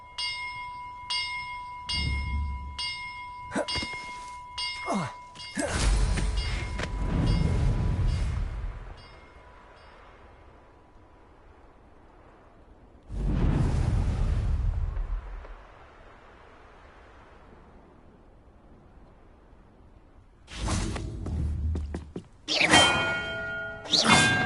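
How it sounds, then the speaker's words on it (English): Bells rung during a puzzle in Hogwarts Legacy, several bright metallic strikes with ringing tones, mixed with heavy rumbling bursts and whooshing spell effects, ending in another cluster of rapid bell rings. "Perhaps the map contains clues about the order I'm supposed to ring the bells in."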